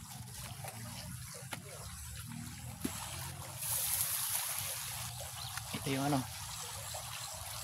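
Water trickles and splashes steadily into a concrete fish pond during a water change, a soft continuous flow under a man's brief speech.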